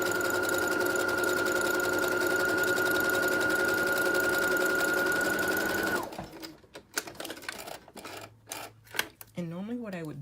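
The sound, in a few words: sewing machine stitching a narrow seam on a tee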